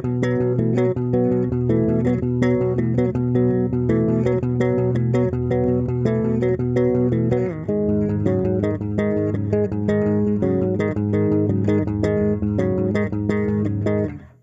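A driving bass riff in roughly B, the opening of a rock song, with heavy power chords played continuously at a brisk tempo, loud and steady, with no voices.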